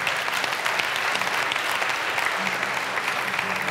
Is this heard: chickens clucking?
no